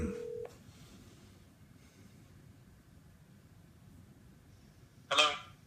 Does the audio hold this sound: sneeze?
no